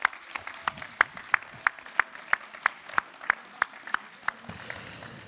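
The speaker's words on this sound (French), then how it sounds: "Applaudissements s'il vous plaît pour Knecht France." Audience members at the 2021 innovation trophy award ceremony clap in a crisp, evenly spaced rhythm of about a dozen beats, then the clapping gives way to a soft, diffuse room wash.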